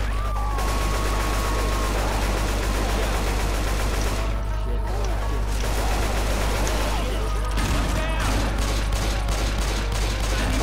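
Left 4 Dead 2 gameplay on Expert with dense, continuous gunfire and chaotic action noise, loud throughout, while people talk over it.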